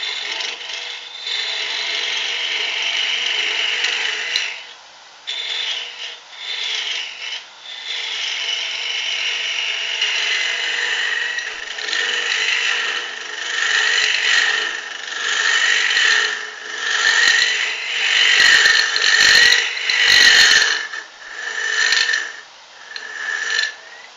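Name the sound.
hollowing a wood piece on a woodturning lathe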